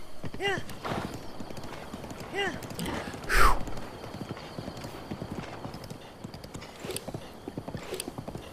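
Rhythmic hoofbeats of a galloping horse in a video game pound steadily, with a brief whinny partway through and occasional speech over the top.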